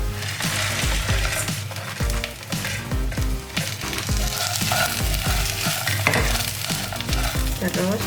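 Tempeh fries in hot oil with dried chilies and shallots, a dense continuous sizzle broken by frequent scraping stirs and clattering spatula strokes against the pan, close and loud.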